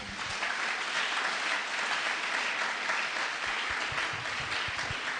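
A church congregation breaks into loud, dense applause, many hands clapping together in a sustained wash that fills the space and holds strong from start to finish.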